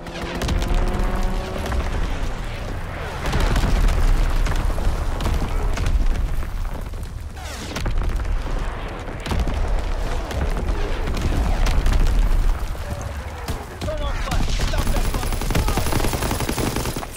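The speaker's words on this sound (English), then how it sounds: "Incoming enemy artillery" Enemy artillery and gunfire in Call of Duty: WWII roar with continuous loud, overlapping blasts and rattling shots, forming a dense, relentless wall of battle noise that runs throughout.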